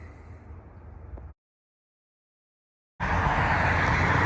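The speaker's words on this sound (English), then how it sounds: "Sorry for the road noise here." Steady broadband road traffic from a busy road, loud and continuous, cutting out briefly to silence before returning even stronger, with no talking.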